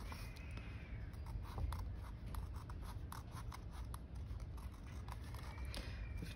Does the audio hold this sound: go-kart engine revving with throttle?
no